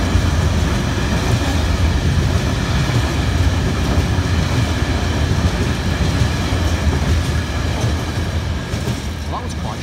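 Severn Valley Railway train, locomotive number 66763, rolling past close by with a steady loud rumble and rail clatter that holds for the whole stretch, fading only slightly near the end.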